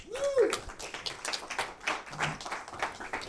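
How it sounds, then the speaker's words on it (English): Audience at a lunch-and-learn talk applauding a speaker being welcomed up, a dense patter of many hands clapping at moderate distance, fairly faint, with a brief tonal sweep at the start. "Give him a round of applause."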